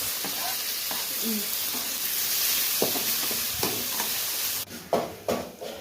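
Tomatoes tossed into a hot frying pan while making Maggi noodles, a steady sizzle with scraping stirs and a few louder clatters of the spoon near the end.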